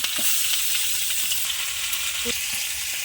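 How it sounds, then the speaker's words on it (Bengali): Fresh pond fish, rubbed with salt and turmeric, fry in hot oil with a steady, dense sizzle and a few soft stirring clicks, close and continuous without talk. "তেলের উপরে মাছ দিলাম, একটা একটা করে মাছ ছাড়লাম তেলের মধ্যে"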